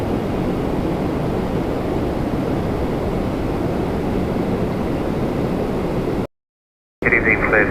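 An airplane at Toronto Pearson airport in the evening produces a continuous broad roar, steady and fairly loud, that cuts out abruptly near the end.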